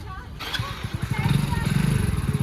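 A Hero Splendor 100cc motorcycle being started and moved off near a temple in Manali: a rising, rapid pulsing engine putter that grows louder and steadier, close by.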